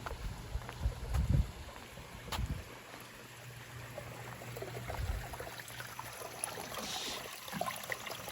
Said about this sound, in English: I heard the sound of running water